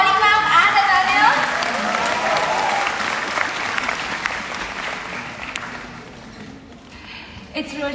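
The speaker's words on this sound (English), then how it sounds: "Can we all give a huge round of applause for Shefali ma'am and Ananya?" Audience applause for Shefali and Ananya at the end of a student session, a burst of loud clapping that slowly thins out and fades, with some crowd chatter and a few last claps near the end.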